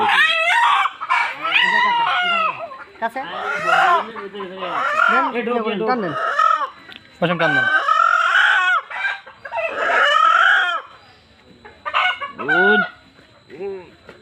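Chickens cluck busily close by and a rooster crows loudly, with people talking among the birds during Ranikhet vaccination of adult chickens.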